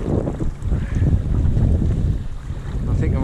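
Steady wind buffeting the microphone outdoors on the water while fishing for flathead, a continuous low rumble with gusty swells throughout, with faint water sounds underneath.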